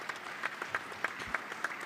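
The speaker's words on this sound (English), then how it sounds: "Another round of applause for that." Audience applause at a panel discussion on digital development, a dense steady clatter of many hands with faint regular swells, moderately loud and without voices over it.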